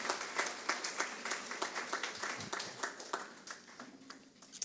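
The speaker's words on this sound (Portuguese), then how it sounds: "vamos a dar un aplauso al Señor" A church congregation applauds together, a fairly faint, steady patter of many hands clapping with no talking over it.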